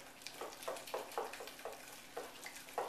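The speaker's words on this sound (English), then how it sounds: "At this point, you want to whisk the ingredients together." An egg being whisked with the moist ingredients for small breadsticks, heard as a faint, regular series of soft wet swishes, about eight strokes in quick rhythm.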